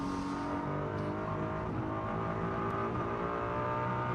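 Ferrari GT race car engine screaming steadily at high revs during Macau Grand Prix qualifying, with its loud sustained harmonic roar holding throughout and only slight pitch shifts, no voices.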